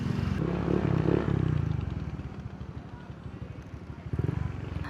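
A Honda Click 125 scooter on a ride in Batangas, its small engine idling and puttering steadily nearby with some clatter, fairly quiet, under faint background noise.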